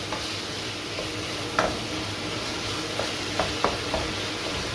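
Garlic is stirred in a sizzling pan while making moussaka, a steady fry hiss with a few light clicks of a utensil against the pan scattered through, close and without speech.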